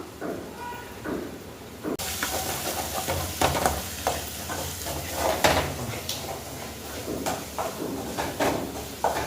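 Masala and curry leaves sautéed in a pan: after a quiet start, the sizzle surges in and carries on under repeated scraping spatula strokes that rise and fall in a loose rhythm.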